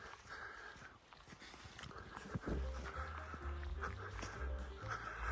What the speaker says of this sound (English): He must have had 10 dogs with him.